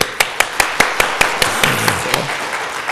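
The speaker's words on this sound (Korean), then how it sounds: "박수 한번 쳐보세요. 크게." A church congregation at a Friday prayer meeting claps hands loudly in unison, sharp evenly spaced claps about five per second keeping a steady beat throughout.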